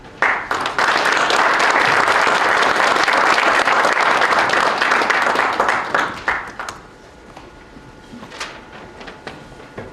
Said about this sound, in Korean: 큰 박수로 맞으십시오